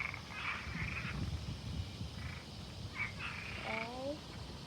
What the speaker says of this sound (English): The frog started up again.